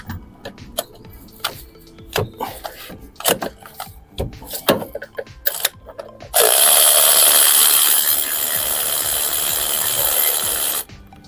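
Power tool undoing bolts on a Ford Transit Connect engine during a timing belt and water pump change: scattered clicks and knocks of handling, then a loud sustained whirring burst of several seconds that stops abruptly.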